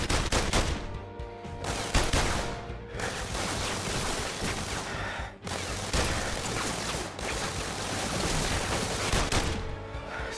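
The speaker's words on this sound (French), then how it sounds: "Il y a une mitraillette!" Rapid machine gun fire rattles in PlayStation VR Worlds: The London Heist, loud sustained bursts of gunshots with mechanical clatter, separated by a few brief pauses.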